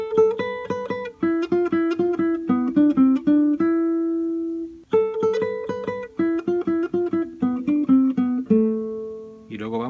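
Guitar playing a melodic phrase from a Colombian cumbia: clean plucked single notes in quick rhythmic runs, two similar passages split by a brief pause, played up close and alone.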